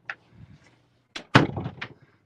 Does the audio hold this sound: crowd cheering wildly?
no